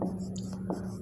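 Marker or chalk writing on a board during a physics optics lesson on telescopes, with short scratchy strokes close by and faint speech around them.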